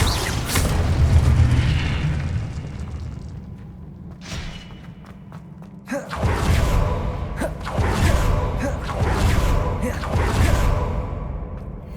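Incendio and Confringo spell blasts in the video game Hogwarts Legacy: a rumbling, booming run of fire spells with whooshes and sharp thuds, loudest after the midpoint, repeated bursts over a steady low roar, a voice also present.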